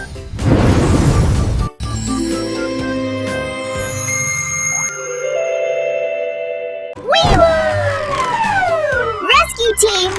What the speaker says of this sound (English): Police car, fire truck, and an ambulance.